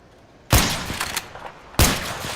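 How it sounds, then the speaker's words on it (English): Two loud shotgun-like blasts fired at a wall in the Roblox game Electric State DarkRP, each a sharp broadband crack with a short ringing tail, about 1.3 seconds apart, close and alone. "Let's shoot at this wall."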